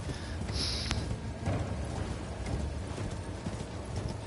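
Horse hooves clip-clopping at a steady pace while riding on horseback in Elden Ring, with a continuous low rumble of ambient game noise and a brief bright metallic chime near the start.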